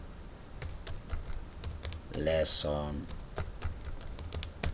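Keys clatter steadily on a computer keyboard while text is formatted in Microsoft Word, a rapid run of light, close clicks that continues under a short spoken word from a man.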